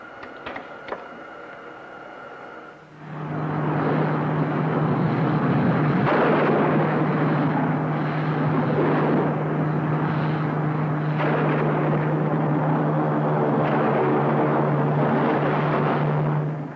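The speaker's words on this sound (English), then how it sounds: "Full rocket power, Winky." Spaceship rockets firing at full power in a 1950s space-adventure serial, a steady loud roaring drone with a constant hum underneath that starts suddenly and holds.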